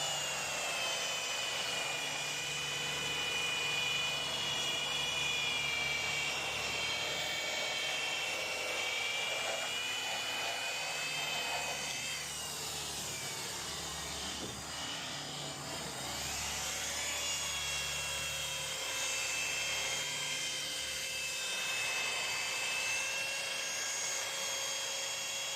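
Polisher buffing the bare metal brightwork of a Cessna aircraft with a flat pad, a continuous loud whirring whine with a shifting pitch, steady and close for the whole stretch.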